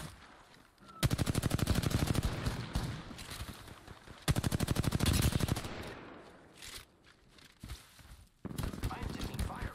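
Automatic weapon fire in an Apex Legends ranked match comes in two long rapid bursts, loud and close, followed by scattered shots and game effects, with players talking throughout.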